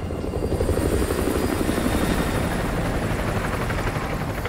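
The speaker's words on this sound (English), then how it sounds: "Chopper inbound, keep low." An enemy helicopter passes overhead in Call of Duty Modern Warfare 2, a loud, close, continuous rotor thump and engine whine that holds steady throughout with no voices.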